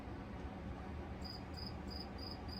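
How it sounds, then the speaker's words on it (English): A cricket chirps in short, evenly spaced bursts at a steady rhythm, starting partway through and repeating about five times over a constant low background hum, with no talking. "Cricket."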